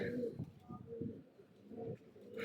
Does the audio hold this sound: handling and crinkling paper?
no